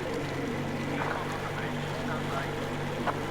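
A boat engine runs in the video game Metro Exodus, a steady, loud, unbroken drone with faint, muffled voices beneath it.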